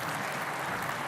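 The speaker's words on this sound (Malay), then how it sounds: "Tepuk tangan." Applause from an audience at a live town-hall style forum in Kelantan, a steady dense wash of clapping throughout, moderately loud with no voices over it.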